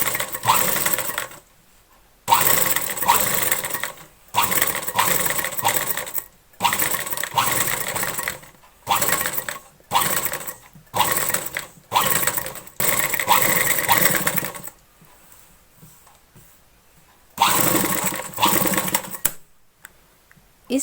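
A sewing machine runs in repeated bursts of rapid stitching along the buckram edge of a blouse, each run lasting a second or two and separated by short pauses, close and steady, with no talk over it.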